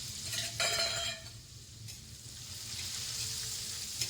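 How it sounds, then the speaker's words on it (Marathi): Finely chopped onion sautés in oil for masala pav. A soft, steady sizzle comes from close by, with a few brief stirring scrapes near the start and no voices. "कांदा छान परतून घ्यायचा आहे आपण तेलामध्ये."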